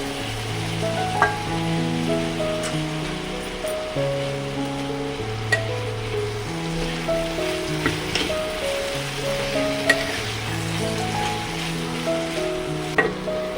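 Ginger paste and two green chillies sizzle in a little oil with a soft, continuous crackle, with occasional stirring clicks, under steady background music.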